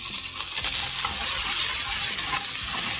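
Ginger garlic paste sautéing in a pan, heard up close as a steady sizzle and hiss with light stirring and scraping underneath, and no talking.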